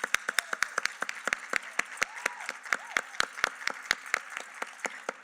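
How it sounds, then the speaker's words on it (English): An audience at an arangetram claps, the strokes sharp and distinct, with a few hands keeping a steady rhythm over thinner scattered applause, recorded fairly close. "round of applause, please."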